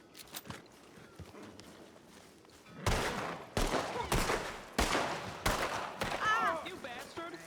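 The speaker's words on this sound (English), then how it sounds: "They're shooting at me from inside." Enemy gunfire in a video game, sharp bursts of shots repeating over several seconds and rising from quiet footsteps into loud volleys, with a voice speaking over them.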